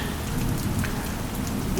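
Steady, heavy rain pattering on a surface, a dense continuous hiss with no breaks.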